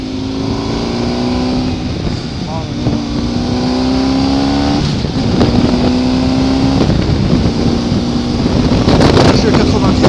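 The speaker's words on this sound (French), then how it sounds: "Il y a un tout petit peu de vent aujourd'hui." Wind buffets a helmet-mounted microphone on a motorcycle riding at about 90 km/h with the front vent open, a steady loud rush mixed with a droning engine tone that rises in pitch in steps as the bike accelerates.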